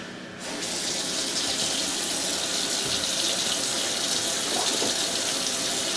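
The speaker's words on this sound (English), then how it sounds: "I'm gonna run a little bit of water here in the sink" Tap water runs steadily into a household sink, a constant close splashing rush that starts abruptly and continues without pause.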